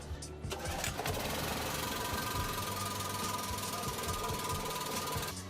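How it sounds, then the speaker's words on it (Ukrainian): A home power generator, used to supply a boiler, starts after a brief pull and then runs steadily with a loud, continuous rattling engine drone close by. "Запускаємо генератор."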